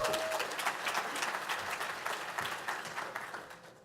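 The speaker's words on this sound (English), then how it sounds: "I want to give this entire room an applause" A room full of conference attendees claps steadily for about four seconds, dense and fairly far off, then gradually thinning and fading out at the end.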